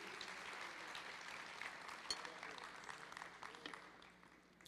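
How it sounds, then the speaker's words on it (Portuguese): Steady applause from a church congregation praising the Lord, a dense continuous patter of many hands clapping at moderate volume for the whole stretch, tapering slightly near the end. "Aplauda ao Senhor"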